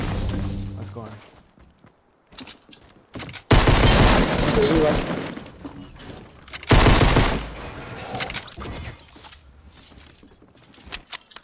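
Pistol shots ring out in two loud, dense bursts of rapid fire separated by quieter stretches, with scattered clicks and thuds between them and no voices.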